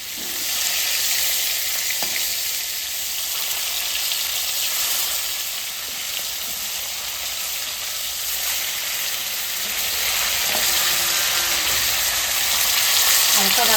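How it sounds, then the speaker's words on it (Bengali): Hilsa fish fry in oil with cumin and chili paste, a loud, continuous sizzle and crackle that holds steady throughout, close up and without voices. "ইলিশ মাছ হালকা ভেজে নেবো"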